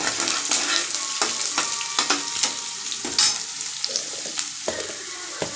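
Ground onion sautéing in a hot pan for a bitter gourd dish, a bright crackling sizzle punctuated by repeated sharp stirring scrapes, close and loud, with no talking.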